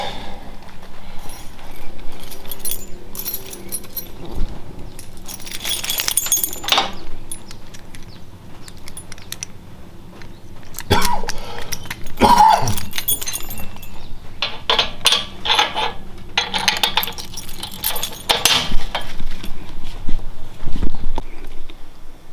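Metal keys clink and jangle in bursts, close by, amid handling noises and a few sharper knocks, with no talking.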